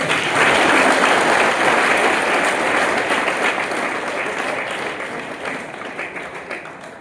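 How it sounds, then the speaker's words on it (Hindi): An audience in a classroom claps in loud, dense applause that gradually thins and fades toward the end. "बहुत अच्छा बना है के लिए एक बार ताली बजा दें।"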